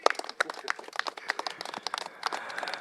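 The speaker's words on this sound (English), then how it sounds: "why don't we give another round of applause for Auntie Emily?" A crowd at a Singapore political campaign rally applauds, lively crisp clapping from many hands with sharp individual claps, moderately distant and continuous.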